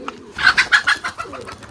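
Old Giribaj flying pigeons coo nearby in a quick run of soft, rhythmic pulses lasting about a second, then fading into low background noise.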